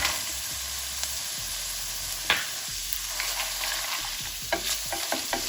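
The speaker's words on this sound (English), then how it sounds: "let the paneer also saute for a couple of minutes. I'm also going to add the makhane or the fox nut" Paneer cubes and fox nuts (makhana) saute in a hot pan, a steady sizzle broken by repeated scraping stirs and a few clinks of a spoon against the metal.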